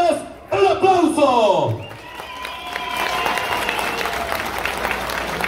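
At a jaripeo during a patron saint fiesta, an announcer's voice gives way to crowd applause and cheering that spreads as a broad, steady wash, with music tones under it.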